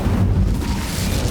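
A short, loud, low whooshing burst from an Incendio fire spell cast in Hogwarts Legacy, heard alone.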